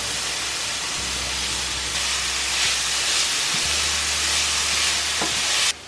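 Onions frying in a pan give a steady, loud sizzling hiss that runs through the whole stretch, with a low rumbling hum beneath and a soft clatter now and then.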